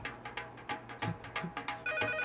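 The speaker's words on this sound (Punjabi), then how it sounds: "ਆ ਫੋਨ ਚੱਕੋ" A telephone ringtone repeats in short regular pulses, moderately loud and close, with no talking over it.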